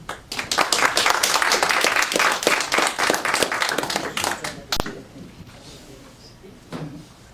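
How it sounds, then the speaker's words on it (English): Seminar audience applauding at the end of a brownbag talk on Czech rivers: steady, fairly close clapping for about five seconds, then fading out, followed by quiet room noise and a couple of stray claps. "Can we clap?"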